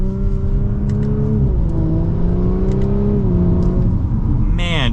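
A 2024 Audi S4 Premium Plus accelerating in manual dynamic mode, its engine note climbing steadily and then dropping at a gear change before it rises again. The drone is loud and heard from inside the cabin, and a short sharp burst comes at the end.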